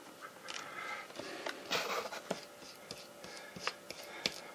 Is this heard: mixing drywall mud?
yes